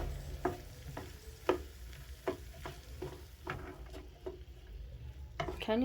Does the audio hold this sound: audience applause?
no